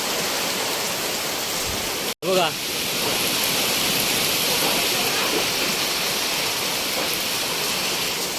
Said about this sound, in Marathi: पाऊस एवढा मजबूत झाला लागतोय ना